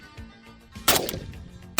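AK47 rifle shots at an outdoor range: one loud sharp crack followed by a long decay, then a second shot just under a second later.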